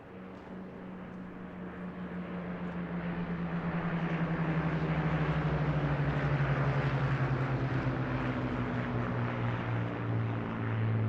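Hawker Hurricane propeller fighter at an airshow, a steady engine drone rising slightly in loudness and then holding, with a slowly falling pitch as it passes, continuous and fairly near with no talk.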